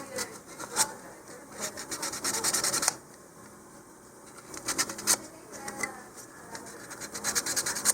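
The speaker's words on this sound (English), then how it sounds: "I'm just going to sand it a little bit." Close, quiet scratchy rubbing in repeated strokes, pausing briefly midway before resuming, like sandpaper worked back and forth over a hard surface; sanding a model rocket body tube from an Estes Cosmic Cascade kit.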